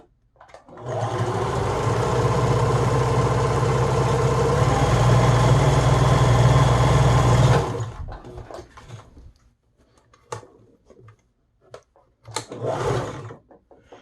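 Bernina 811 sewing machine running a blind hem stitch: a loud, steady mechanical whir and rapid needle chatter for about seven seconds, then it stops, followed by a few faint handling clicks and rustles.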